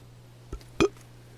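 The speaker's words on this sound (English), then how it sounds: "Sorry for the burp." A single short burp from a man outdoors while gardening and planting starts, a brief loud vocal burst following a smaller sound, otherwise quiet with a low steady hum.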